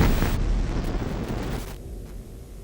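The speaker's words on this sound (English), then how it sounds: "That was like an atomic bomb just went off." Seen from a mountain near Area 51 at night, a distant explosion comes through as a broad, rushing boom that slowly fades over a few seconds, with no voices.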